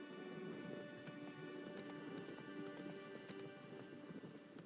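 Horse hooves clip-clopping at a steady, galloping rhythm in The Witcher 3: Wild Hunt, a close, continuous patter over a rain-like ambient bed with no talk.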